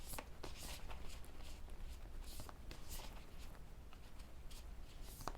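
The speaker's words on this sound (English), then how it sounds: "let's go ahead and give this a little shuffle here." A deck of cards shuffled close up, soft repeated riffling and flicking rustles in quick bursts at low level, with no voice over them.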